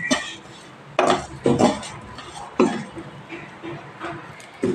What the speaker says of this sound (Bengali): নাড়াচাড়া করলে চালটা ভেজে আসবে